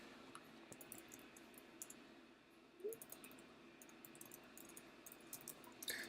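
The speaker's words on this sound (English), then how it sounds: "Sorry again for a little bit of typing there." Quiet, scattered clicking of computer keyboard typing during a gaming livestream, sparse keystrokes over a low background hum with no talk.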